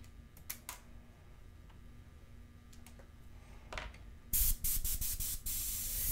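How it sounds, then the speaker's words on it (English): An airbrush loaded with India ink, run from an air regulator, gives short faint hisses and clicks, then breaks into a louder, sustained spray near the end. "So what I'm going to do is I'm going to go ahead and fire this airbrush up."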